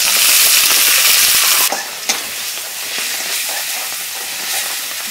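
Local koi fish are cooked with onion, ginger-garlic paste and spices in a pan on a rainy day, starting with a loud hissing sizzle that suddenly drops to a softer, steady fry with scattered stirring scrapes.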